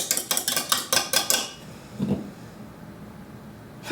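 A whisk clinks rapidly against a bowl while beating egg whites to stiff peaks for angel food cake, about a dozen bright metallic taps over a second and a half, then a soft thump and quiet.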